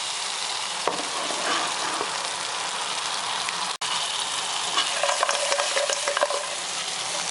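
Crab pieces frying in a wok for crab tang hoon, a loud continuous sizzle with scraping and tossing of the spatula against the metal, broken by one brief near-silent gap before the frying resumes.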